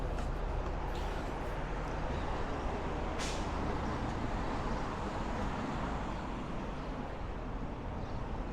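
Heavy road traffic on 92nd Street in Bay Ridge, Brooklyn, with city buses passing, a steady loud roar of engines and tires, and one short hiss of an air brake releasing partway through.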